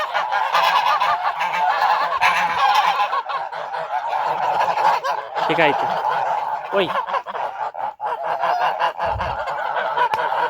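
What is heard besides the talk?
flock of geese honking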